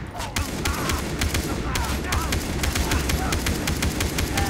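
Rapid gunfire fills a video game shootout with dense, steady bursts of shots throughout. The shots are fairly quiet overall and nobody speaks.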